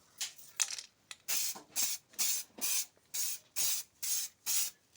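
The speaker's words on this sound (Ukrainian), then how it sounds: "Поновлюємо трошки фарбу, поновлюємо з балончика." Aerosol spray paint applied to a Ford Mondeo Mk1 engine comes in about ten short hissing bursts, each lasting under half a second and evenly spaced, close and fairly loud, with a faint can rattle between them.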